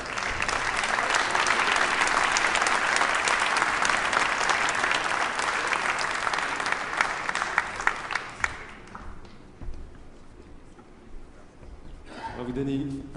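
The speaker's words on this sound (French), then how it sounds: "Et on peut l'applaudir, encore une fois." An audience at a prize ceremony gives sustained, dense applause for several seconds, which thins out and stops; a voice then speaks briefly over the quiet room.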